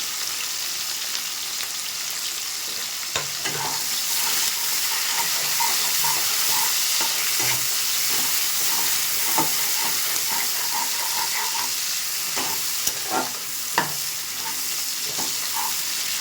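Chopped onion and crushed garlic sizzle and hiss steadily in a hot pan, with occasional stirring scrapes and small crackles over the constant frying noise and no talking.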